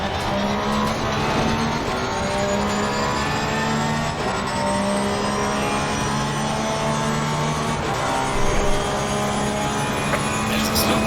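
Race cars drive at Brands Hatch in Assetto Corsa Competizione, including a Porsche, with an engine's sustained whine and rising revs layered over other cars, loud and continuous.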